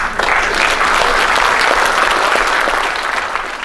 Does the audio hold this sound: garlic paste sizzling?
no